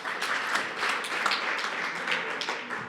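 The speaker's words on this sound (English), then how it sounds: "A big applause for him," An audience at a session of a CCAM enablers conference applauds a speaker, giving a brief, even patter of many hands clapping at moderate volume with no talk over it.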